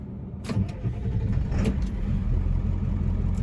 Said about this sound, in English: Listen to the old power stroke.